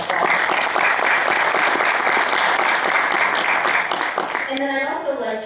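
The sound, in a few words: audience applause for James Smith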